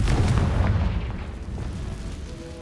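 A Confringo spell explosion in the video game Hogwarts Legacy: one deep, loud boom with a rumbling tail that slowly fades over a couple of seconds, with no talking.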